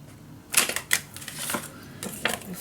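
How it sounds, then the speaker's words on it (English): Paper corners being snipped for a scrapbook mini album: a few sharp, close clicks and crunchy cuts spaced irregularly over a quiet background. "So I'm gonna cut the corners"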